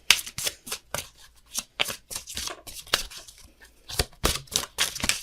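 Tarot cards are shuffled by hand in quick, rhythmic bursts of papery riffling and flicking, close up and alone, with short pauses between bursts.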